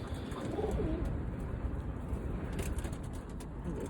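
Birmingham roller pigeons in a loft on a windy morning, giving soft low cooing calls over steady wind noise, close and fairly faint, with no talking.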